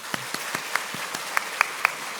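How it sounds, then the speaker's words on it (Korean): A church congregation at a Sunday service claps to welcome visitors, a sparse, quiet scattering of separate handclaps, roughly a dozen distinct slaps spread unevenly across a hushed room. "우리 한번 박수 한번 하실까요?"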